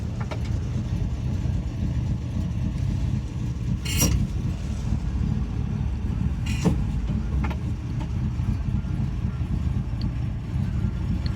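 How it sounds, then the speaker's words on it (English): A 1964 Buick LeSabre survivor car drives along with a steady low engine and road rumble, and a few brief metallic rattles from the exhaust underneath rise above it now and then. "Hear more exhaust rattles back there."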